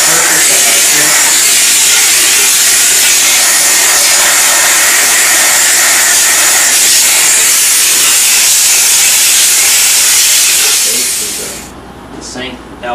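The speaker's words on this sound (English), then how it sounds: "we can really put in a lot of heat and a lot of steam around the base of our faucet" A steam cleaner blasts hot steam around the base of a bathroom sink faucet, a loud, close, continuous hiss that holds steady and then cuts off near the end.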